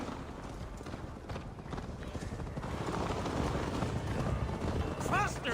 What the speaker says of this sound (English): Ride like Sleipner's hooves! Your horse is slow and